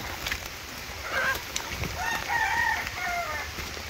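Chickens clucking with a rooster crowing on a rainy morning at a farmyard feeding, the crow and clucks moderately near over steady rain hiss and low rumble.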